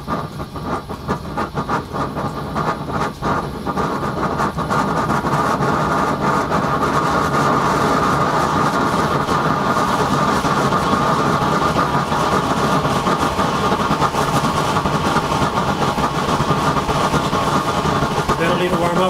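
Loud, steady roar of a propane burner with a swirl device on a pipe hourglass setup, air choked back, running continuously with a rumbling, rushing texture and a rougher, fluttering start.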